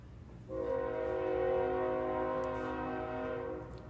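A train passing outside, its sustained horn-like tone entering after a half-second and holding steadily over a low rumbling background, moderately distant and alone without talk.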